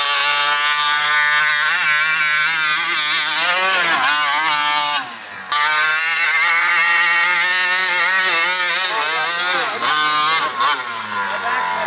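A 49cc gas-powered toy monster truck, the Primal MT, runs with a loud, high, buzzing two-stroke engine that revs up and down continuously close by, with one brief dip in the middle.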